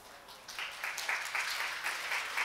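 An audience at a lecture claps for a few seconds, a scattered applause that stays moderate and somewhat distant in a hall, with no talking over it.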